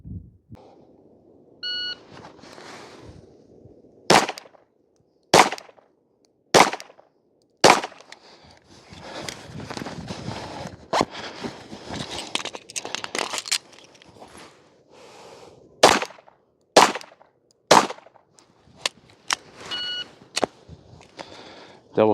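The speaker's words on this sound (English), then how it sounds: "We will fire 4 rounds, reload, fire another 4 rounds, and we have 18 seconds to get that done." Handgun shots at a competitive shooting stage, two strings of four rounds with a reload between, sharp loud cracks spaced apart, a pause of shuffling and handling noise, and electronic timer beeps at start and end.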